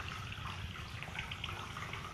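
Water pours steadily from a tap into a bowl to soak soilless growing medium, a faint continuous splashing gush with no voices.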